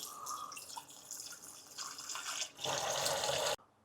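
Water splashes and pours steadily into a bowl with baking soda, close by, getting louder in a continuous rush near the end before stopping abruptly.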